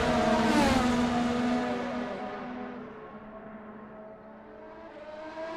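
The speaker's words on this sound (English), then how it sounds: "Beautiful shot, beautiful sounds of these cars. They are quite amazing vehicles, these Formula One cars." Formula One cars racing at the Nürburgring in a racing video game: a loud, high-pitched engine whine sweeps past early, then a sustained, fainter engine drone with shifting pitch continues as the cars pull away.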